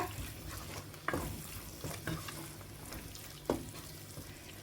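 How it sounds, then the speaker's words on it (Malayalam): Quiet stirring of a green grape and date pickle in a pan, a few soft spoon scrapes and knocks over a low background hiss. "എന്നിട്ട് വീണ്ടും നന്നായി മിക്സ് ചെയ്ത് കൊടുക്കുക"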